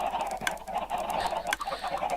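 Chickens on a video game chicken farm cluck and squawk in quick, honking bursts, fairly close and continuous over a faint background.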